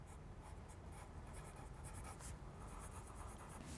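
A sentence is written by hand, pen or pencil scratching softly across paper in short, quiet strokes close by, with no speech over it.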